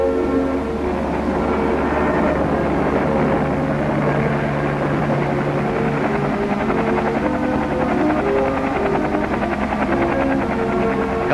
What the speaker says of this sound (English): Helicopters were ready at Bao Vinh to rush the fresh troops to critical combat areas.